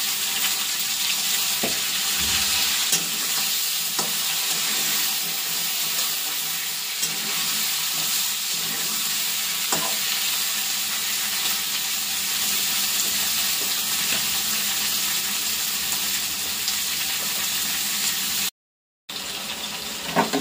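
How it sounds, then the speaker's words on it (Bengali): Vegetables for a home curry fry in a pan with turmeric, a continuous close sizzle with occasional stirring clicks and scrapes over about twenty seconds, briefly dropping out near the end, and no talking. "এখন হলুদ দিয়ে আগে একটু ভেজে নেবো সবজিগুলি।"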